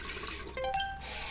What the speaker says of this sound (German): Das heißt, hier Wasser rein.